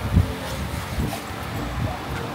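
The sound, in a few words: strong wind blowing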